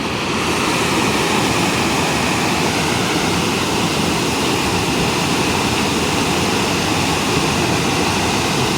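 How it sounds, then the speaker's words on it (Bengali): Forceful rushing water pours down a hillside waterfall stream, a loud, dense, continuous roar that stays steady throughout with no voices. "জোর দেখো জলটা"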